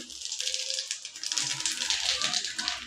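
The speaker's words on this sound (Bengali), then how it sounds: "এবার আমি সেই তেলে দিয়ে দেবো পাঁচ ফোড়ন" Panch phoron spices crackle and sizzle in hot oil left from frying eggs for a spicy Bengali egg curry, a dense, steady spitting rattle close by.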